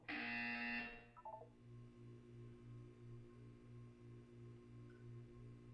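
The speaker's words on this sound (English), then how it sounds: "When you hear the buzzer, look down at the floor." Buzzer in the video game Portal 2: a loud, steady electronic tone sounds alone for about a second, then cuts off, leaving a low pulsing hum.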